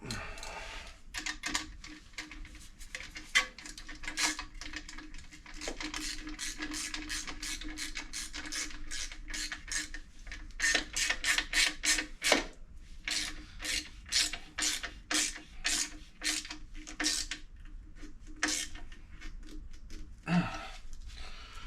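A ratchet tightens a bolt on an Akrapovic exhaust baffle of a Yamaha Tenere, with repeated bursts of quick, crisp clicking separated by short pauses.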